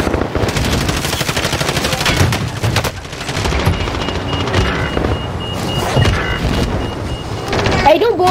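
Rapid video game gunfire, dense automatic bursts rattling almost continuously at close range, with voices mixed in among the shots.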